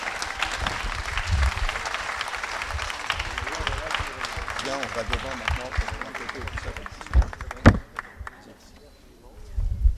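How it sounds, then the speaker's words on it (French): Audience applause for prize winners at an awards ceremony, steady crowd clapping that fades briefly near the end before swelling again, with some voices audible over it. "Et on ne va pas les applaudir fort"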